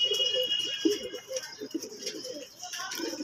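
Red Lahori pigeons coo repeatedly at close range in a loft, soft throaty calls overlapping with a faint high background hum and brief talk.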